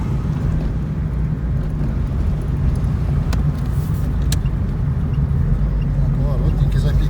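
Interior of a moving VAZ car approaching a roundabout, with a steady low engine and road rumble droning throughout, loud and continuous.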